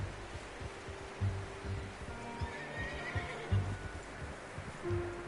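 A horse whinnies and snorts amid hoof clip-clops in the video game Red Dead Redemption II, fairly close, with a low background hum.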